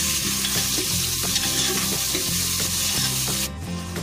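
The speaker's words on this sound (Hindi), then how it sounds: "अब इसमें हम अनियन डालेंगे, अनियन को भी हम मिक्स कर लेंगे और सॉटे कर लेंगे।" Onions sautéing in a pan for paneer biryani make a steady close sizzle with soft stirring, and a low background hum runs underneath until it drops away near the end.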